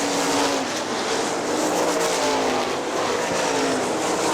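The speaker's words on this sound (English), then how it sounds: "One and a half laps to go for Ben Rutan in car number 75" Sprint cars race on the dirt oval at Hartford Speedway Park, a loud, continuous high-revving engine roar with several cars blending together and rising and falling pitch as they circle the track.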